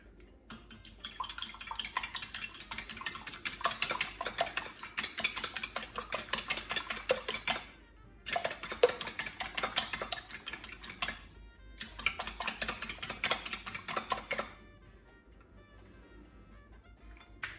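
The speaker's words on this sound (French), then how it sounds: "je vais casser 2 œufs que je vais battre pour paner mes pains de mie farcis" Eggs beaten briskly with a fork in a bowl for breading stuffed sandwich bread, a fast rhythmic clatter of metal against the bowl in long bursts with short pauses, close and loud, ending in a quieter stretch.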